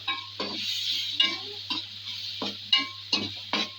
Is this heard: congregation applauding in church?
no